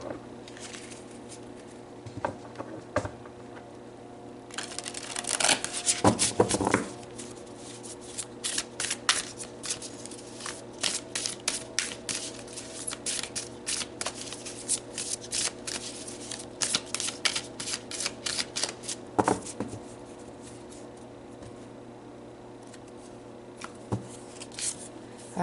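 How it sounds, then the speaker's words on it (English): Oracle cards being shuffled for a reading, a steady soft riffling and patter of card stock that runs throughout, with brief louder flurries near the start and occasional taps, close and fairly quiet, with no talking. "All right, let's pull some more cards."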